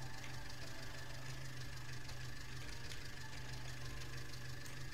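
Steady idling drone of an Ursus tractor engine hitched to a straw baler in Farming Simulator 19, continuous and even with a low knocking throb, no talk over it.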